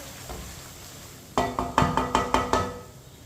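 A spoon stirring tinda vegetable curry in a pan on the stove, about half a dozen sharp metallic scrapes and knocks in quick rhythm against a low background sizzle, close and with no voices.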